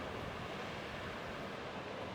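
Paradise Branch waterfall on the Timberline Trail roars as a steady, dense wash of rushing water with some wind buffeting the microphone, unbroken and continuous throughout.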